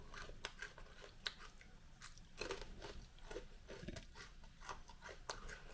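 Crispy fried seaweed bugak chips, salted laver coated and fried, crunched and chewed close up, with repeated sharp crackling bites over steady chewing and no talk.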